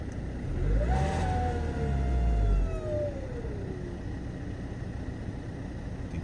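A 2016 Mercedes A180 1.5 CDi diesel with a stuck turbo and a boost pressure fault revs up with a loud engine roar. A clear turbo whistle rises and then falls away as the engine settles back to a rumbling idle.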